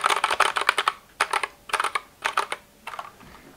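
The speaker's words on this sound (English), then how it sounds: "These are Gateron brown switches." Bursts of fast typing on an RK G68 mechanical keyboard with Gateron brown switches, crisp clacky keystrokes in several short runs separated by brief pauses, close and clear.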